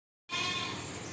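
A two-tooth castrated goat at a livestock market in Karachi, Pakistan, lets out one sustained bleat that starts abruptly and holds loud and close for about a second.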